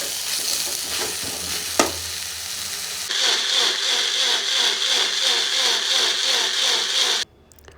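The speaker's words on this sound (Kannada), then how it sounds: "ಇದಕ್ಕೆ ಇವಾಗ ಕೊತ್ತಂಬರಿ ಸೊಪ್ಪು ಹಾಕ್ಕೊಂಡು ಒಂದು ಸ್ವಲ್ಪ ಫ್ರೈ ಮಾಡಿಕೊಂಡು" Tomato masala with coriander leaves frying in a pan, with a steady sizzle and the scrape and clatter of stirring. The sizzle turns brighter and louder midway, then stops sharply near the end.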